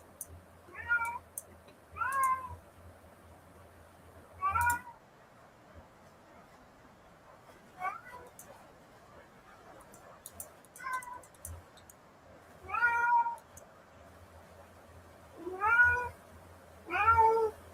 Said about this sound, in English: Cat is cranky. I don't know why.